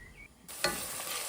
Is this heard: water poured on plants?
no